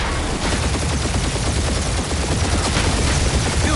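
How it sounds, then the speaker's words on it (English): Continuous heavy gunfire in the Guardians of the Galaxy video game, a loud unbroken barrage of rapid shots filling the whole moment with no pauses or voices. "Just make sure you're shooting while you do it."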